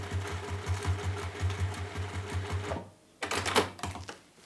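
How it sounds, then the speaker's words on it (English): Sewing machine stitching a textile bag with a faux tortoiseshell handle, running in a rapid steady rhythm nearby, then stopping briefly before a short final burst. "And then you sew up to that start-stop line."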